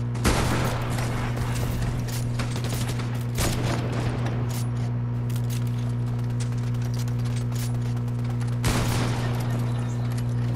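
Gunfire in the video game Fortnite rings out, a few loud sharp shot bursts spaced seconds apart over a constant electronic hum, with no talking.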